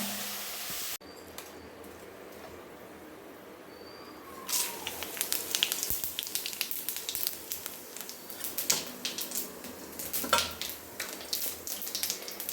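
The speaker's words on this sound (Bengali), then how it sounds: "দিয়ে দিলাম ফোড়নে গোটা চিড়ে শুকনো লঙ্কা তেজপাতা আর আলুটা ভেজে তুলে রাখলাম" Whole spices, dried red chilli and bay leaf drop into hot oil. A quiet stretch gives way to bursts of lively crackling and spitting that carry on unevenly to the end.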